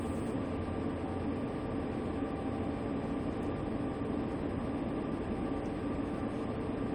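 A tanker freight train rolls past in a train simulator game, a steady, unbroken rumble of rail cars with a low, grinding hum that stays constant throughout, with no voices.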